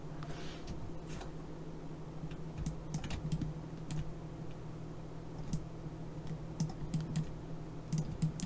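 Keys clatter on a computer keyboard while building a car model in Maya 2018, with scattered light clicks and short runs of taps, close but faint over a steady low electrical hum, with no speech.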